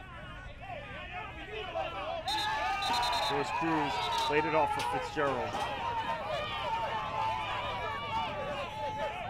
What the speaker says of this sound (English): Have quite a lively crowd tonight, as you can probably tell